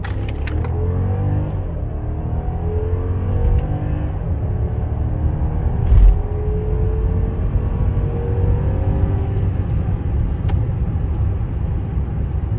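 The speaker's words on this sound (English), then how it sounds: "gonna accelerate a little to show you guys how it feels. Okay, so floor it now." A 2015 Mercedes-Benz S550 accelerates hard at full throttle, its engine drone rising steadily in pitch under constant loud road and wind rumble from inside the cabin, with no talking.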